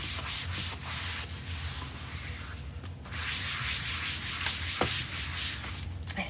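Steady scrubbing of chalk paste residue off a surface, a continuous broadband rubbing that runs for several seconds with a brief pause near the middle, close and fairly loud, with no voices.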